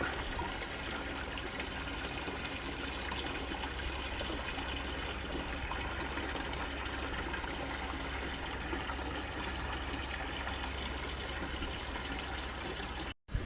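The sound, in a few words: water filling a fish tank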